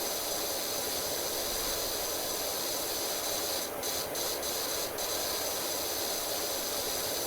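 A pressure washer sprays continuously in PowerWash Simulator, a steady loud hiss that fills the whole stretch, with a few brief breaks near the middle.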